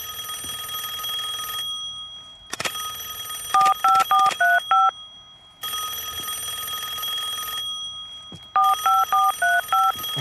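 Telephones in a zombie horror puzzle map of a video game ring in long, loud, steady electronic trills. Each trill is broken by clusters of short, beeping tones, and the pattern repeats twice with brief quiet gaps between.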